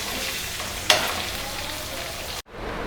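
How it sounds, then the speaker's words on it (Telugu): Chicken fry sizzling loudly in a pan, with a dense continuous crackle and one sharp spoon scrape partway through before the sound cuts off abruptly. "ఇదిగోండి చికెన్ ఫ్రై మెల్లిగా లాస్ట్ ఇంకా కాసేపు ఒక 5 మినిట్స్ పెట్టేసి ఈ చికెన్ ఫ్రై రెడీ అయిందండి"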